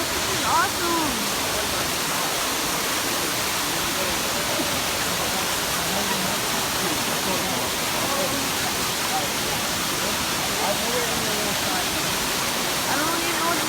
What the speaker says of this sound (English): I'm at this waterfall.